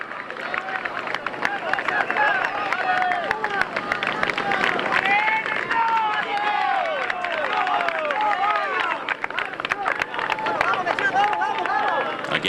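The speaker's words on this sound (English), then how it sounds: "Crowds only getting bigger as they go up this Bola del Mundo climb." Large roadside crowd on the Bola del Mundo climb during the 2012 Vuelta a España, a dense continuous roar of cheering, whistles and shouts close by, with a commentator talking over it.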